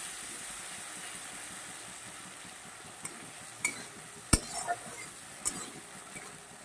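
Bhola fish jhal with poppy seed and cashew paste sautéing in a pan, a faint steady sizzle with a few sharp spatula clicks and scrapes later on, no voices.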